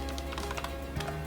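Fingers type on a computer keyboard in a quick, light run of close keystroke taps over a low steady hum, with no one speaking.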